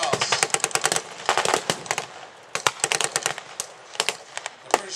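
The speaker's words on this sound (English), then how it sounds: "The guys up in the tower with the 303s are firing back." British .303 rifles fire back from a tower during a 1944 battle. Sharp cracks come in quick, ragged bursts, some loud and near and others fainter, with brief gaps between volleys.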